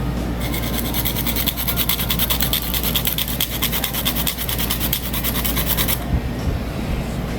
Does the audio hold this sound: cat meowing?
no